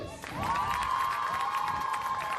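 Spectators at a Little League tournament final cheer and applaud, with children's voices shouting and a sustained high-pitched yell rising over the clapping crowd.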